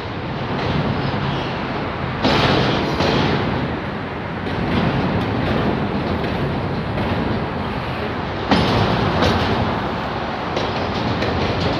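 A train rolls past in a rough area of Detroit, a loud continuous rumble and roar of railcars with occasional clanks and surges, dense and close throughout.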